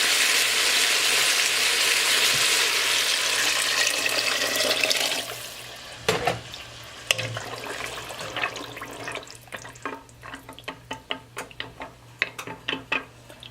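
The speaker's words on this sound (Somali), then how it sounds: "kadib biyo kuloo diyaar ayaan ku korshubayaa" Hot water is poured into a pot of boiled onions while cooking Somali macaroni with shrimp. A loud, steady gushing pour lasts about five seconds, then gives way to quieter clinks, ticks and light bubbling.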